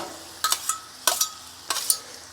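Cabbage and sausage frying on a Blackstone griddle get pushed around with a spatula, giving three pairs of scraping strokes over a soft, steady sizzle, close up and without voices.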